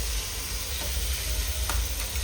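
Chopped onions hit hot oil in a home kitchen pan, where boiled peas are already frying, producing a steady, dense sizzle that holds without a break, with a faint stir or clink partway through.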